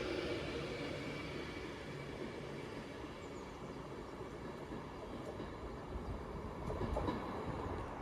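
A train, class 39124, pulls away from Wilmslow station toward London Euston, heard as a broad steady rail rumble with faint clicks and squeals, fairly distant, with no voices.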